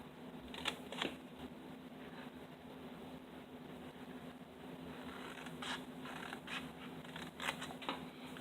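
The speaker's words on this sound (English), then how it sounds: "So we're going to cut this little box off." Scissors cut a small section off a cardboard box. A few quiet snips and rustles come close by over a low steady hum, spaced out with pauses between them.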